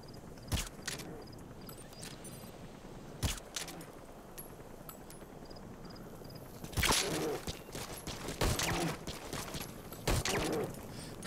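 Muffled gunshots ring out in the video game Metal Gear Solid 5: a handful of sharp, isolated reports spaced a few seconds apart, with a denser cluster near the end, over a quiet ambient background.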